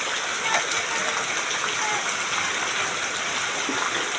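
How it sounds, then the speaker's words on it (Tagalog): Steady, dense rain hisses continuously in Bagong Silangan, Quezon City, a uniform wash of falling water with no pauses. "Maulan ngayon dito."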